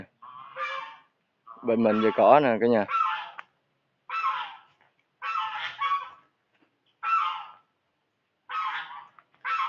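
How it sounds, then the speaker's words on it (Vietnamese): Geese honk loudly and close by in repeated bursts, a strong harsh call near the start followed by a steady series of nasal honks, with a person speaking briefly over them. "ngỗng nha."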